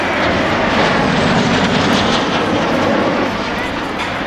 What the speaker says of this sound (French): Un premier box de 4 avions dans le break traditionnel patrouille de France